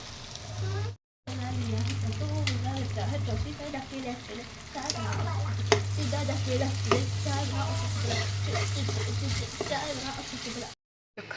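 Okra being stirred and cooked in a home kitchen pan, with a steady soft sizzle and scraping stir sounds throughout, a low hum in parts, and faint voices in the background.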